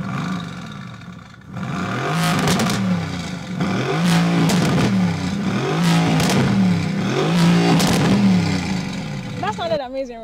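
A 2017 Mercedes-AMG GT engine revs loudly and repeatedly, several rising and falling blips in quick succession, close by and dominating with no talk over it.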